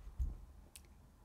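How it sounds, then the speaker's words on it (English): A single key, the P key on a computer keyboard, is pressed, giving a soft, close click followed by a faint second tap in a quiet room. "So you're going to click P on your keyboard,"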